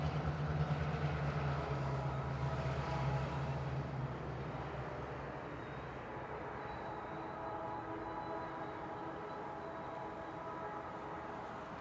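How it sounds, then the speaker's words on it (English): A northbound FrontRunner commuter train led by an MP36 locomotive rumbles past near a rail wye in Salt Lake City, its steady low engine drone heavier at first and then easing into a continuous rolling roar. "Our first train on the list of millions of these things is a northbound frontrunner being led by MP36 3C number 10."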